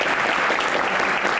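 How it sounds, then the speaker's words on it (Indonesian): An audience at a televised Indonesian Constitutional Court Q&A breaks into sustained applause after a gavel knock, a loud dense roar of many hands clapping steadily throughout. "tepuk tangan untuk ketok palu"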